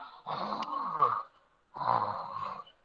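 A child or adult in a Sunday school session imitates snoring with a voice, two drawn-out rasping snores separated by a short pause, close and fairly loud.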